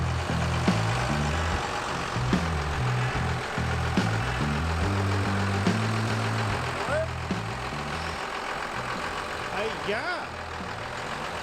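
A 1953 Mack crew cab dually truck sits with its engine idling, a steady low rumble that holds throughout, while people talk close by over it.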